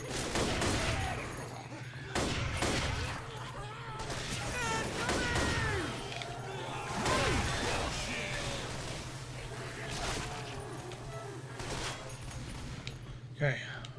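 Rifle gunfire in Left 4 Dead 2, bursts of shots scattered through the stretch with someone talking over much of it and a steady game hum underneath.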